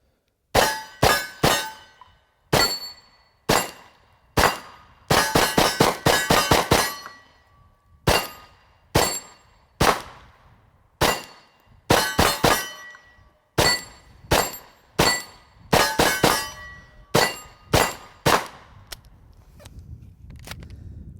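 A Kel-Tec Sub-2000 fires 30 rounds from an SGM tactical magazine outdoors. Loud, close, sharp cracks come singly and in rapid strings with short pauses between groups.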